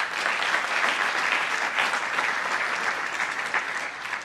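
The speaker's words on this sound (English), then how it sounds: "Let's give him a round of applause as well." Steady applause from an audience at a governor's address on New York–Netherlands relations, dense clapping sustained at an even level throughout with no pause.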